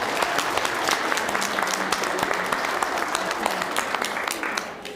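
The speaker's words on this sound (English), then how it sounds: "Best people ever deserve a huge round of applause." An audience at a school Battle of the Books competition applauds loudly, with thick, crackling clapping that holds steady and then begins to fade in the final second.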